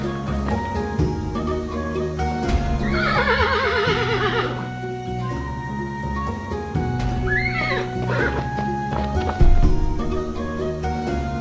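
In a video game, a horse lets out two distinct whinnies over a busy background of music and other sounds, with faint hoofbeats underneath.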